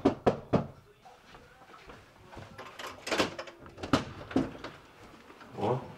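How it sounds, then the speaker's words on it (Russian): Knocking on the door of a newly occupied home sounds as a series of sharp, close raps, loud at the start and repeating irregularly through faint background noise. "Стучат, никто не слышит."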